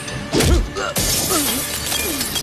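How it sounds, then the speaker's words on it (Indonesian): Glass shatters overhead during a violent fight, a sharp loud crash followed by a dense spray of noise as shards scatter, with voiced cries and grunts mixed in. "mendengar suara pecahan kaca di atas, pergi untuk mengecek"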